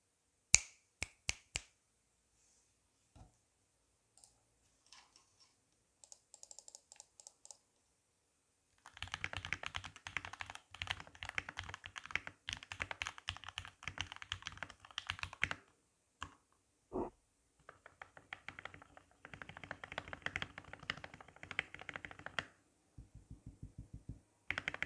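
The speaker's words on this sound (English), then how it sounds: "typing on the GAT yellows is a super quiet and buttery smooth experience" Typing on a Keychron K2 V2 keyboard fitted with Gateron Yellow switches: scattered individual clicks, then long runs of fast, soft, close keystrokes with brief pauses between bursts, no voices.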